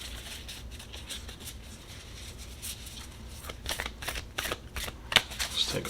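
Oracle and tarot cards being shuffled by hand, soft riffling patter that builds into sharper, louder flicks and snaps toward the end, close up and with no talking.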